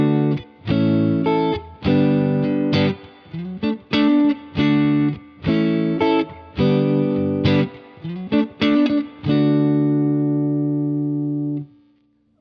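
Electric guitar played through a Tube Screamer overdrive pedal into a Deluxe Reverb amp set near breakup, loud and close: choppy driven chords and riffs with short gaps, ending on a long sustained chord that cuts off.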